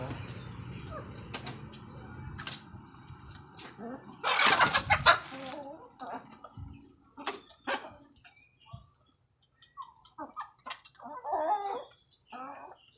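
Chickens cluck while being fed, with scattered close clucks and squawks, some scuffling and a loud burst of flapping midway; a dog and a person's voice are also faintly heard.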